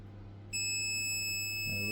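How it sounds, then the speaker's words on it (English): A small electronic device gives a steady, shrill beep that starts about half a second in and holds unbroken to the end, with a constant low hum beneath it and a brief murmur near the finish. "Let's wait for the beep."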